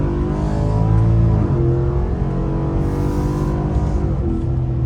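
A truck engine accelerates onto a highway in cold 28-degree weather, a loud steady drone climbing through gear shifts with brief dips, close and continuous throughout.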